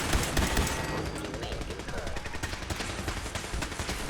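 A stuck turret in Fallout 4 keeps firing: loud, continuous, rapid automatic gunfire with dense overlapping shots that never pause.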